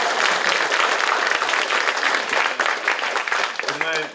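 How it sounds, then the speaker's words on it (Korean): Audience applause at a Gyeongbuk education office community talk event, steady dense clapping filling the room throughout, with a voice beginning to speak over it near the end. "박수가 좀 나오면 더"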